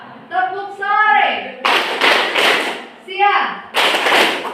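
Students in an Indonesian high-school classroom clap in patterned bursts during a call-and-response clap chant, sharp loud claps in rhythmic groups alternating with a teacher's voice calling out between them.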